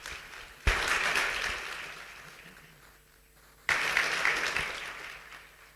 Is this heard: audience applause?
yes